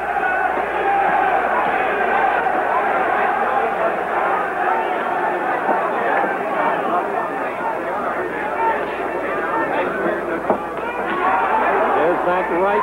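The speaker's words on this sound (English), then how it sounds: "the roars of the crowd" Crowd roaring at the Muhammad Ali versus Karl Mildenberger boxing fight, a sustained arena din under continuous commentary from a speaking voice.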